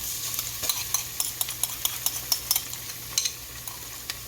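Stirring onions and tomato puree in a sizzling pan, with a steady fry hiss and a scatter of sharp spoon scrapes and taps, close up and fairly quiet.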